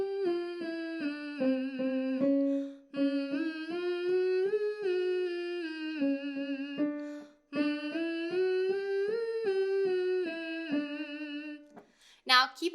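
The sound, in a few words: singer humming a five-note warm-up scale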